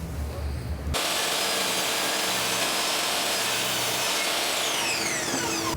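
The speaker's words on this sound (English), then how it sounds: "so now I need to cut out some 2-inch wide pieces" Power saw cutting wood into 2-inch wide pieces for a squirrel feeder bench, a loud steady whining roar that starts abruptly after a second and runs on unbroken, close up.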